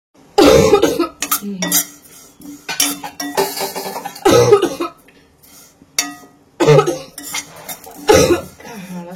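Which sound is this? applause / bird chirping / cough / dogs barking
cough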